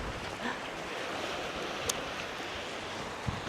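Wind buffets the microphone on Cambois beach in Northumberland, a steady broadband rush with distant surf mixed in and a couple of brief knocks, no voices.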